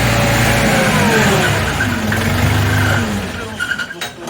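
A Jinma tractor engine runs close by with a steady, rumbling drone that shifts slightly in pitch, then eases off near the end.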